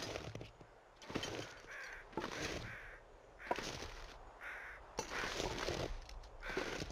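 Crows caw repeatedly in the snowy wilderness of The Long Dark, with harsh calls recurring at steady intervals over a low wind-like background, fairly close and clear.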